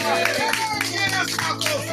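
Hands clap in a steady rhythm during a church service, several people keeping time together, heard under and alongside ongoing speech or singing.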